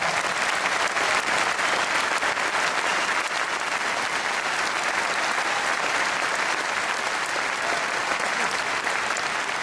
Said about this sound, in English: Give Corey a round of applause